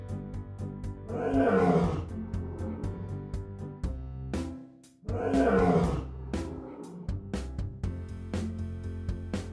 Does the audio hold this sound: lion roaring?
yes